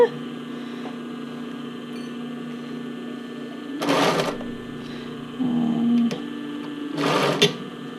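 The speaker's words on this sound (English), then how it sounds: "I'm going to get my machine set for the straight stitch. Slightly smaller stitch." Home sewing machine running a slightly shortened straight stitch while finishing a lace-up tank top, with two short bursts of stitching separated by quieter machine hum and handling.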